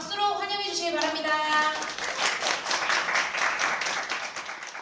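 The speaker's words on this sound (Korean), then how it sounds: "그럼 한번 큰 박수로 모셔보도록 하겠습니다" An audience gives a round of applause to welcome a guest speaker at a youth event, a short burst of clapping that starts over a voice still speaking and carries on steadily to the end.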